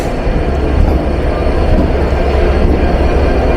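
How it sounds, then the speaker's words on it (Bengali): The Nilsagar Express, hauled by locomotive 6639, rolls into a platform at Dhaka with a loud, steady low rumble of wheels and carriages, close and continuous. "ছেড়ে যাওয়ার চেয়ে 18 মিনিট বিলম্ব নিয়ে ট্রেন কেবলমাত্র প্ল্যাটফর্মে প্রবেশ করলো"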